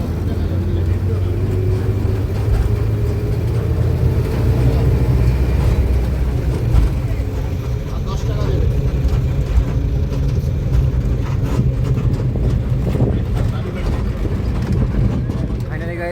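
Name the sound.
riding a minibus in Kolkata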